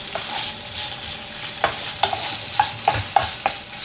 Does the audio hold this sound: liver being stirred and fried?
yes